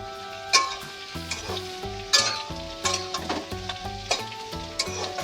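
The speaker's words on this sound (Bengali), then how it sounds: "সবজিগুলোকে একটু ভেজে নেব আগে।" Cut potatoes and mixed vegetables fry in an oiled pan, sizzling under a run of clinks and scrapes from a spatula or spoon being stirred. Soft music or tonal hum runs beneath.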